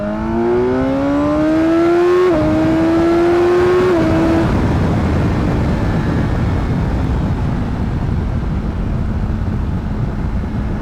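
A 2019 BMW S1000XR motorcycle engine pulls hard, its rising whine climbing through a gear change before fading into loud wind and road roar.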